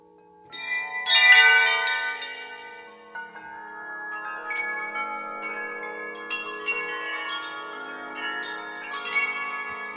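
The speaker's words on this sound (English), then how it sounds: "And the tubular chimes." Tubular chimes from the Fluffy Audio Zen Garden sample library, several bright metallic strikes ringing out in quick succession and then a softer, sustained scattering of chime tones that decay and overlap.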